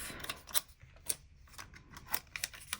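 Scissors snipping through paper to cut it in half, a handful of crisp, quiet close snips in an uneven rhythm with light rustling between cuts, in a hushed room with no talking.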